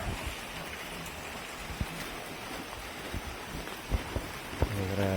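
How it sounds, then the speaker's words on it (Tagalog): Heavy rain pours down in a dense, hissing wash during severe flooding in Eastern Samar, Philippines, with a few louder drops and knocks standing out near the end. "Wala pa rin humpay yung pag-ulan, kaya lalong lumalaki yung tubig."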